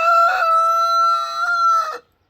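A hen in a backyard coop gives a single sustained, harmonic call lasting about two seconds, close and loud, then cuts off into silence.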